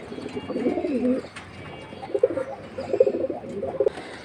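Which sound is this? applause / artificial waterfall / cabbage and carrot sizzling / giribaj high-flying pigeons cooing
giribaj high-flying pigeons cooing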